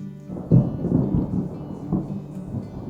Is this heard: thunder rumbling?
yes